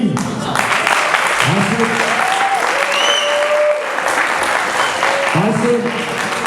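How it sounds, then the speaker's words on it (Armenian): Applause breaks out for the coaches at the opening of a sports tournament, a steady wash of clapping from a large crowd lasting throughout, with a voice speaking over it near the microphone. "Ուզում եմ նաև ծափարել մեր մարզիչներին,"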